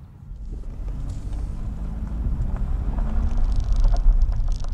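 A car rolls slowly through an RV park at Black Meadow Landing near Parker Dam on Lake Havasu, its engine a steady low rumble with road noise that builds gently, no talking.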